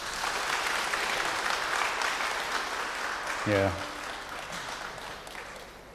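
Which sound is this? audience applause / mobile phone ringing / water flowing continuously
audience applause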